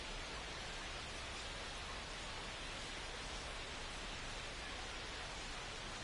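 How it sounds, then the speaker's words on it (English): Steady rain pouring over a baseball stadium in MLB 25 during a Rays vs Cubs game, a dense even hiss with no breaks and no voices, fairly quiet throughout. "the field's not going to be able to hold up if the rain gets any worse than this"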